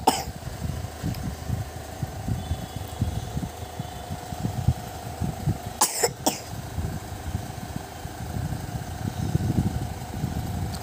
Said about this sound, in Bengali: কাশি হয়েছে খুব